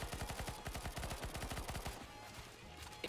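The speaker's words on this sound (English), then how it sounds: "Crossfire to shoot the zombies off." Rapid bursts of automatic gunfire shooting zombies in a video game, a fast steady stream of loud shots that stops partway and gives way to quieter game sounds.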